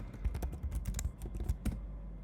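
Computer keyboard typing, a quick run of crisp key clicks ending in a firmer press of the enter key, close and clear, then quiet.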